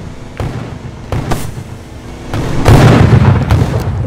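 Explosions go off in the video game Red Vs Blue Gun Battle, with several loud, booming bursts and blasts in rapid succession amid gunfire-like pops.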